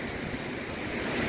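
Ocean surf rolls steadily onto Kata Noi beach, a continuous broad wash of breaking waves with some wind noise, close and moderately loud, with no voices.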